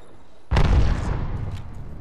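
A frag grenade explodes in Apex Legends with a sudden loud, close boom after brief quiet, followed by a rumbling decay that fades over about a second and a half.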